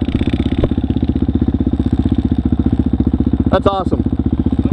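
A Kawasaki KLR motorcycle engine runs steadily on a hill where the bike is stuck, its loud, close, rapid thumping pulse continuing throughout while a person speaks briefly.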